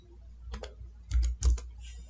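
A few clustered keystrokes on a computer keyboard, typed in short quick bursts with pauses between, close and clear, with no talking.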